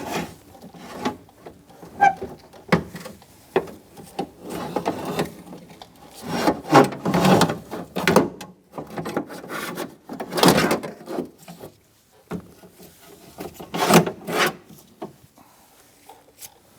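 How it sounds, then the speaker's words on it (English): Plastic-and-metal rasping and knocking as a power window motor and regulator assembly is fed motor end first into the front door of a 2012-2018 Ford Focus, irregular close scrapes and clunks with quiet gaps between. "Now we're going to feed our regulator in. I'm going to put the motor end in first."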